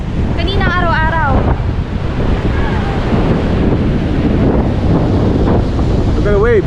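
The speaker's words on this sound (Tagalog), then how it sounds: "Look at the waves." Ocean waves wash steadily onto a beach at a Zambales resort under an overcast sky, a constant loud surf roar buffeted by wind noise on the microphone, with brief high vocal sounds near the start and end.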